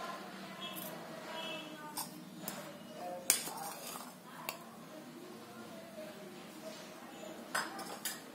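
Metal spoon clinking against a bowl while multani mitti is added, a few sharp faint clinks scattered over a quiet room background, with no talking.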